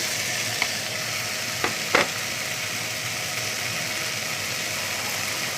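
Flaked fish flesh fries in a pan while being stirred in, giving a steady sizzle with a few sharp scrapes and clicks near the start, then continuous frying alone.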